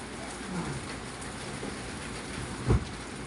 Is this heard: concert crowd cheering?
no